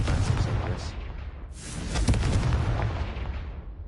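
In the Hogwarts Legacy video game, a Confringo spell bursts into a loud, booming explosion, with a heavy rumbling blast that rolls on, then a second surge of crackling detonation that slowly decays.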